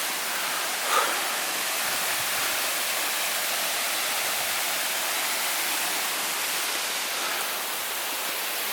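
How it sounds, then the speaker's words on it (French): Waterfalls and rivers along a three-day mountain trek in the Baronnies de Bigorre give a constant, even roar of rushing water, loud and unbroken throughout. "c'est cascade sur cascade, rivière sur rivière"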